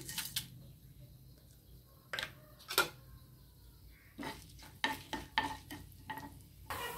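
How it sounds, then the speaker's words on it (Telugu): Soft sizzling of hot oil with scattered sharp pops and crackles as tempering spices splutter in a pan, irregular and close. "ఆయిల్ వేడాక పోపు దినుసులు వేసుకోవాలి"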